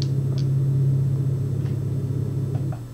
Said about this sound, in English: My engine is losing power.